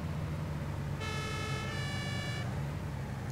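Emergency vehicle in the video game Notruf 112, a black command car: an engine hum runs under a short siren wail lasting about a second and a half, moderately loud.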